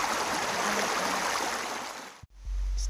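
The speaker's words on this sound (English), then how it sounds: "I'm taking a bath in the water source." A stream on the Appalachian Trail used for bathing, a steady loud rush of flowing water that cuts out abruptly near the end before a low rumble returns.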